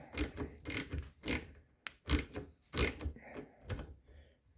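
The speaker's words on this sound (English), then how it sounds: "using a 21 millimeter socket, and like I said, 3/4 inch drive with just a ratchet" Ratchet on a 3/4 inch drive with a 21 mm socket turning a spark plug rethread tool, heard as several close, uneven bursts of clicking and clunking strokes with short pauses between.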